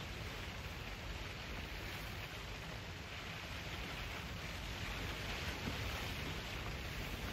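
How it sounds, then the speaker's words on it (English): Steady rain falls outdoors in a garden, a dense, even hiss of drops continuing without pause throughout. "Oh, that rain's pushed now."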